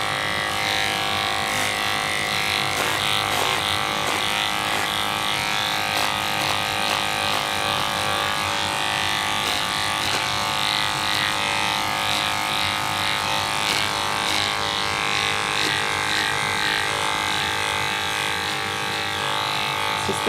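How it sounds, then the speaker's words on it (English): A pet grooming dryer runs continuously with a steady, buzzing motor whine, fairly loud and unchanging throughout. "Just the dryer finishing up"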